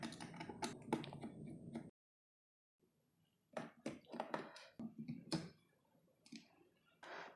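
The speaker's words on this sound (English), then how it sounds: "we have to remove these screws with the 2mm hex wrench" Small hex screws on the top brace of an LC Racing EMB monster truck RC car are worked loose with a 2mm hex wrench, giving close, light clicks and ticks in short bursts around a brief silent gap.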